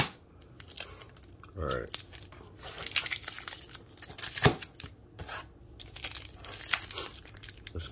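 Trading card packs being cut and torn open, with crinkling foil wrappers, scissor snips and sharp tearing bursts in irregular handling noises close to the microphone. A voice briefly speaks between the sounds.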